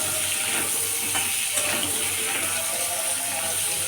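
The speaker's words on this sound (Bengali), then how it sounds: "এবার এটা নেড়ে দিচ্ছি একটু।" Boiled potatoes fry with cauliflower in a pan, giving a constant bright sizzling hiss with occasional scraping of the stirring; close and fairly loud.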